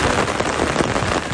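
Heavy rain pours down in Hakkari, Turkey, during a storm that flooded the Sülük stream, making a loud, dense and continuous hiss of drops striking surfaces.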